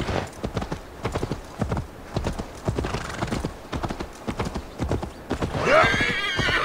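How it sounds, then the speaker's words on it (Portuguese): Horse in the Assassin's Creed Valhalla video game, with a steady clip-clop of hooves running throughout, ending in a loud, close whinny near the end. "Chamei meu cavalo aqui, mas bugou o assovio."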